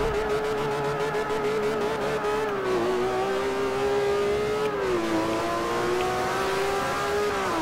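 A Ferrari 599 GTO engine in Forza Motosport 4 at a race start, a loud continuous high rev that climbs, dips with gear shifts and climbs again, heard alone.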